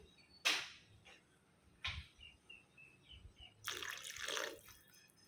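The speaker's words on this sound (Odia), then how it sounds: "ଆଉ ମୁଁ ଏଇଠି ଆଉ ଟିକେ ପାଣି ଆଡ଼୍ କଲି" Water poured into a simmering pot of curry for kadali bhanda bara, with short splashing bursts near the start and middle and a longer, louder pour toward the end, close by with no talking.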